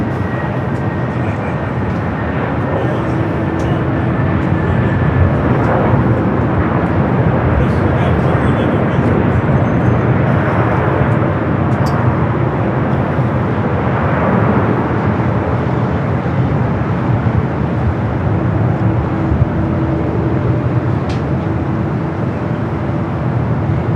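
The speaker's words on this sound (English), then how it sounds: "Our next arrival, JetBlue Flight 2223 coming from JFK, A321 Neo XLR" A JetBlue Airbus A321neo LR jet arrives at LAX, its broad engine roar holding steady and loud for the whole stretch, a sustained rumble with faint tonal whine above and no speech heard.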